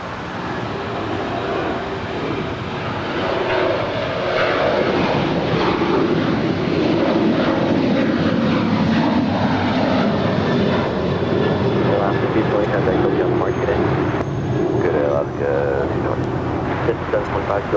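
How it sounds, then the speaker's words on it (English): An Alaska Airlines Boeing 737-900ER rolls down runway 25 right at LAX, a broad, loud, continuous engine roar that holds steady for the whole stretch, with a voice talking over it. "It's a 737-900ER, now rolling down 25 right."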